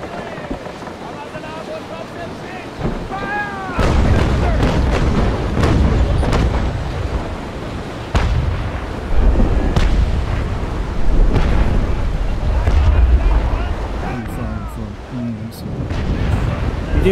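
Ship cannons fire volleys in the naval combat game Naval Action, a series of heavy booming blasts spread over several seconds above a windy, sea-like background, with players talking over the action.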